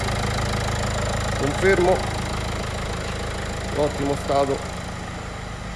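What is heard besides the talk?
Renault Clio 1.5 dCi diesel engine idling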